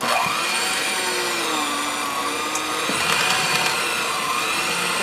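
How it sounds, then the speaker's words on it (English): An electric mixer beats butter and sugar together for cookie dough, a loud steady motor whine with a slightly wavering pitch, running without a break throughout. "now we're going to beat the butter and sugar together"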